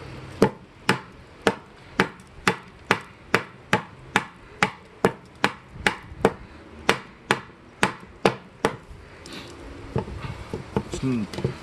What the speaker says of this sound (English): We're gonna check this thing and see how it does a little chopping on this old dead branch here.